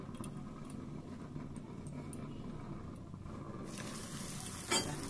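Luchi fries in a small amount of oil, giving a faint, steady sizzle. The frying grows brighter and louder in the last second and a half, with a brief sharp spike near the end.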